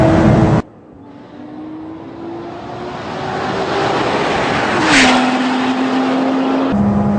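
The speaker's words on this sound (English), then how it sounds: "as I get into the power, up through the gears" A Lotus Exige S engine pulls hard and climbs steadily in pitch, with a quick drop at each gear change before it builds again, loud and close, on a track.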